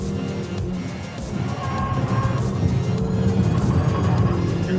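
A Hyundai N car drives the Nürburgring race track past the Brünchen and Galgenkopf corners, its engine droning steadily from inside the cabin and slowly building in loudness, with no talk.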